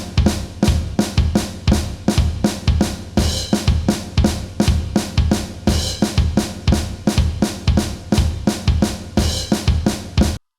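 A polyrhythmic pattern of sharp, evenly spaced percussive hits that gradually speeds up across smooth tempo changes, loud and close with no talking.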